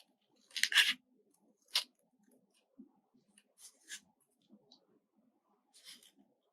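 Scissors snipping through paper while building a memory box, a few short crisp cuts spaced irregularly, fairly close and quiet, with faint soft handling noises between them and no talking.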